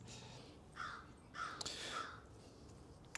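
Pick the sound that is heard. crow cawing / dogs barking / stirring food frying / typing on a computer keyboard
crow cawing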